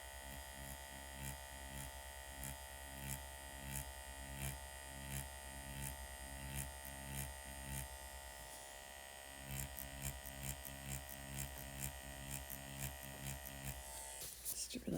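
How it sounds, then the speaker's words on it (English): An Inkin InkFlexo tattoo machine buzzes steadily at close range while shading, a constant electric whine with a regular pulsing rhythm that pauses briefly before resuming. "I'm seeing really nice shading capability with this machine so far."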